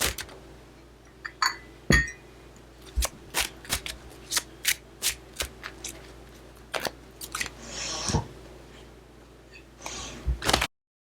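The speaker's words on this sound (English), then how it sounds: "let's shuffle the cards" Deck of playing cards being shuffled close by, a series of sharp riffling bursts and snapping flicks in an irregular rhythm, with a longer riffle near the end and no talking.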